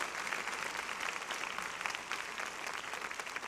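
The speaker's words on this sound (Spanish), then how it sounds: "Hay un fuerte aplauso al Señor por eso." Applause from a church audience, a steady wash of many hands clapping throughout at moderate loudness, with no speech over it.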